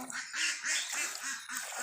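Ducks quack by a river in a quick run of about six nasal calls, fairly faint over a wash of open-air background noise.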